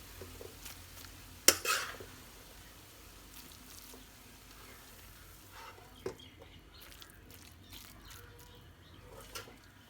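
Cooked green vegetable sabzi being spooned out of a pan into a bowl, a sharp metallic clank followed by scattered quieter scrapes and taps over a faint background hiss.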